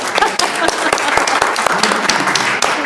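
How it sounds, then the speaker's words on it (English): A round of applause from the audience at a school board meeting, brisk close hand claps in a fast, steady patter that carries evenly throughout. "we can give her a round of applause"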